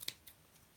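Scissors snip through a folded craft-ribbon pinwheel laid flat on a table, giving one sharp close cut followed by a fainter second snip, quiet and alone.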